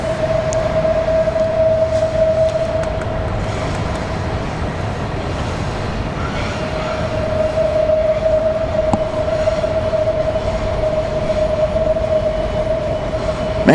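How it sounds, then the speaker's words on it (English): A metro train rumbles past loudly and steadily near Washington Dulles International Airport, with a sustained high whine over heavy low-end roar throughout. "Man, that's a loud metro."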